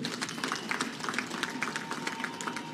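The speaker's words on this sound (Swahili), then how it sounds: "Ndugu wananchi, makofi kwa wabia wetu." An outdoor public crowd at a Dodoma road-naming ceremony claps for the project partners, scattered individual claps layered over a soft crowd murmur, moderately distant.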